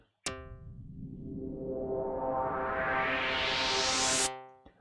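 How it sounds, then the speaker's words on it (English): A loud wash of white noise swells steadily for about four seconds with a sustained tonal C note from an Ableton resonator ringing through it at a 50% dry/wet mix, then cuts off abruptly. "you're going to hear 50-50 white noise and the C note"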